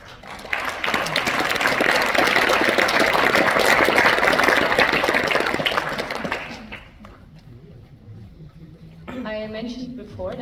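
An audience at the opening night of the GoEast film festival in Wiesbaden applauds loudly for about six seconds, the clapping swelling and then fading away before a voice begins speaking near the end.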